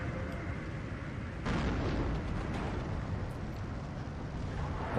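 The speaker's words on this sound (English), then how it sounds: "Watch those bombs come down as they carpet the T-34" JE-188 bombers carpet bombing in Steel Division 2, a WWII strategy game: a sustained, dense roar of explosions kicks in abruptly and rumbles on continuously, loud and heavy throughout.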